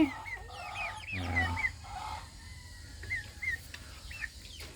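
Chickens clucking and squawking nearby, several birds calling in short bursts over a faint background murmur.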